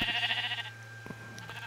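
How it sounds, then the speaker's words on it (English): A sheep in the Minecraft video game gives a single nasal, wavering bleat, loud and close, followed by quiet game ambience with a few faint soft clicks. "Hello sheep."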